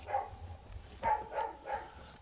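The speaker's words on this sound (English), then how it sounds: "Terribly sorry about the dog." A dog barks three or four times at moderate distance, short sharp yaps spaced unevenly in a garage during Jeep Cherokee XJ wiring work.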